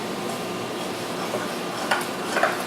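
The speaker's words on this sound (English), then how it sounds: "I'm gonna stir this together" Half a cup of mayonnaise stirred into spinach and artichoke dip in a bowl, a steady soft wet rustle with a couple of faint spoon clinks near the end.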